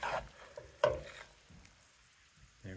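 Spoon scooping and scraping food in a cast iron Dutch oven over a fire, a few soft irregular clanks and scrapes over faint sizzling, close and quiet.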